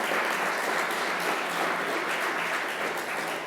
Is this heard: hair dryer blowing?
no